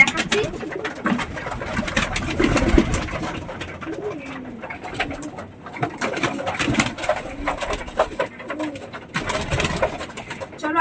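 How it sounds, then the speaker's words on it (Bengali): Two pigeons cooing close by in soft, repeated throaty bursts, with a person talking over them and some handling noise. "এই হচ্ছে সেই 2টো পায়রা, আমি তোমাদের দেখাচ্ছি।"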